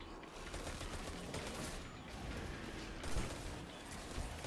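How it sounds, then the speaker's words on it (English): Video game hand cannon gunfire rings out in a dense, continuous volley of shots with mechanical clatter, sustained at moderate loudness with no talk in between. "Are you using a hand cannon?"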